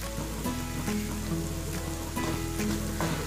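Ground whole spices and chole masala sizzle in a hot pan while making chole, a steady close frying hiss with faint stirring scrapes and soft clinks.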